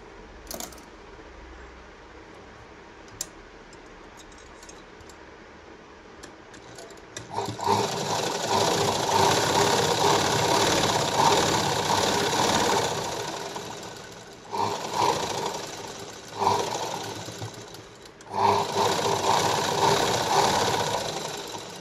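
A sewing machine stitching a blouse seam starts up after a quiet stretch and runs in long, close, rattling bursts with brief pauses between.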